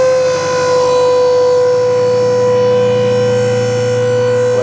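The hydraulic cylinder of an Iron Bull dump trailer lifts the bed with a steady, loud mechanical whine. A strong sustained tone and hum run unbroken throughout, with no talking.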